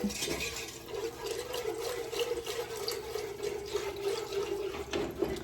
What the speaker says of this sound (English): let's get this in while we're whisking